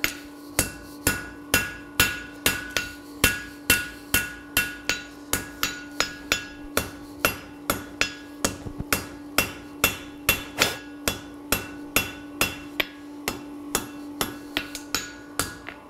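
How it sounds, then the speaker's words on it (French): A very light ball-peen hammer strikes metal, pushing the material over an edge to shape a chamfer: about forty crisp, ringing blows in a steady, fairly quick rhythm, close and alone. "je prends mon marteau très léger, qui a un côté boule,"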